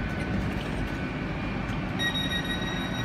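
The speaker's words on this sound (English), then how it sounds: "this train's about to depart" Class 800 train standing at a station about to depart, giving a steady low rumble of idling engines with a faint high whine joining partway through, continuous and close.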